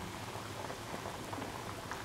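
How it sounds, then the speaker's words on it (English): Steady bubbling and hissing of salted water with black-eyed beans at a rolling boil in a pot, a dense continuous wash of small pops with no voices. "added water has started boiling."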